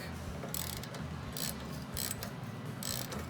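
A 14mm wrench loosening a brake bolt on a mini trike built from a Coleman BT200X, giving a few quiet ratcheting clicks over steady low background hum, with no talk.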